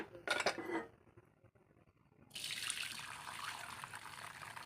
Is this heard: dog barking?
no